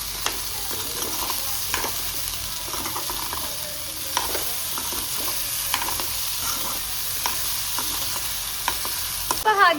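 Potatoes being stirred and tossed in a salted, non-nonstick pan, giving a steady frying sizzle with repeated scraping and clinking of the spoon throughout, close and continuous with no talking.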